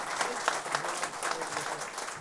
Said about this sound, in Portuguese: Eu queria uma salva de palmas para o nosso presidente, Ribamar,